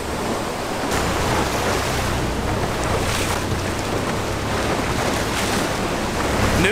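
Ocean waves wash and surge steadily around a boat heading for a sea cave tunnel, a loud, continuous roar of water and wind with no voices.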